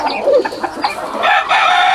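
A five-year-old rooster clucks in short bursts and then crows loudly and close, alone without talk.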